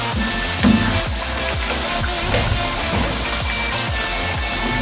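Continuous loud crackling sizzle of spiced potato pieces frying in hot oil in a pan, steady and close with faint rhythmic bubbling beneath.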